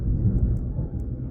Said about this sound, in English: that's the thunder out there, guys.